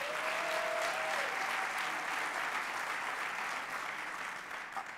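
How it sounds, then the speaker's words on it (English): Sustained audience applause at an education panel event, steady and fairly loud throughout, with a faint tone near the start, tapering slightly toward the end. "A round of applause for all that they've done."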